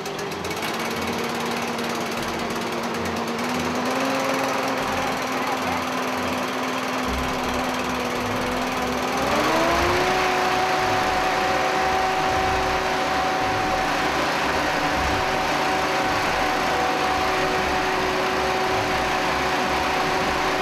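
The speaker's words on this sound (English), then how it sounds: "The captains make a judgment call to start the ventilation process." A firefighters' gas-powered ventilation fan engine cranks and runs steadily, a loud constant drone with a clattering mechanical rattle that rises in pitch partway through as the engine revs up, continuous and close.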